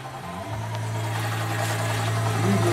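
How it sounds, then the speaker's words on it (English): An EZ-GO golf cart engine cranks and catches, then settles into a steady, close, loud running hum that swells slightly at the end, with no one talking. "Turn the ignition key on. Cranks great. Give it a little choke."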